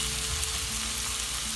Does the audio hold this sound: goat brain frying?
yes